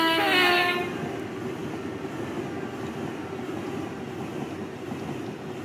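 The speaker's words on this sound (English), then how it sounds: "Rubbish horn." Horn of a class 377 electric train in Train Simulator 22, one short loud blast at the start, then the steady rumble and rolling noise of the train.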